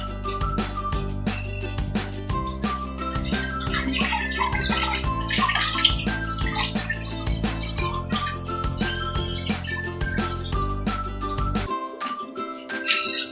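Water poured steadily into a cooking pan over chicken feet, prepared dim sum style with sauce, a continuous close splashing stream lasting most of the clip before stopping abruptly near the end.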